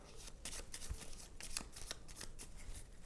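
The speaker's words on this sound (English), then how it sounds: "take the AI deck, give it a good shuffle" A deck of AI cards for the board game Red Rising gets riffle shuffled in a few quick bursts of flicking, slapping card sounds, close and quiet, with no talk.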